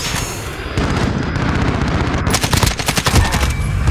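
Uzi submachine gun fire in a video game comes as loud, rapid automatic bursts, growing into dense rattling volleys with no talk over them.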